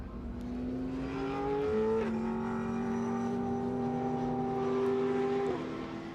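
GT2-class race cars, a Brabham alongside Porsches, circulate steadily behind the safety car at Misano, a continuous droning engine note with gear-shift steps in pitch, held at moderate distance without talk.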